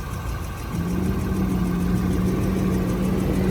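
A 2019 Range Rover HSE engine, check engine light on, runs at a steady idle, a low continuous hum that settles in after a brief softer start, close by.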